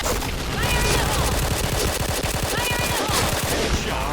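Rapid, steady gunfire from a K2C EBR rifle in the Point Blank shooter game, Element Fire series: a loud, continuous stream of closely spaced shots with no pauses.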